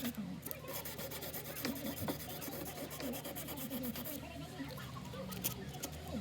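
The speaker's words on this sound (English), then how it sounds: "I'm just going to take some real fine sandpaper and just file that" Fine sandpaper rubs along the frets of a Martin guitar to take off black marker, making a close, continuous scratchy rasping with quick repeated strokes.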